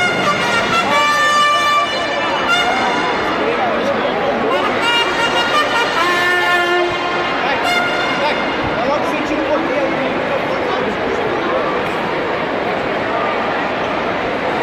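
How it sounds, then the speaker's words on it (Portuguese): A bugle sounds a call at a military school graduation ceremony, bright brassy tones ringing out in several phrases over a loudspeaker announcement and general crowd noise. "Os alunos atentos ao toque da corneta"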